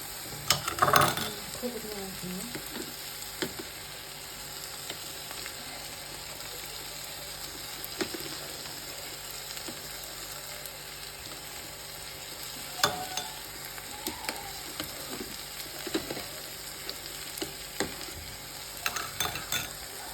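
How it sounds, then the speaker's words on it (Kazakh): Food frying in olive oil in a pan, a quiet steady sizzle with occasional stirring scrapes and soft clatters throughout, close by and alone without talk. "Қазір енді қуыратын боламын мына оливковое маслоға."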